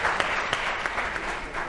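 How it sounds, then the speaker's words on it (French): Game show audience applauds the finalists and the host, a brief steady patter of clapping heard at moderate distance. "Je vais vous demander d'applaudir pour les candidats et pour l'animatrice."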